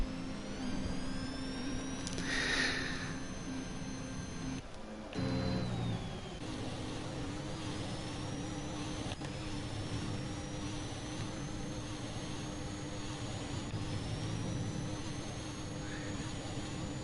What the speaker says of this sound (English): he's doing some celebratory donuts around to turn 4 there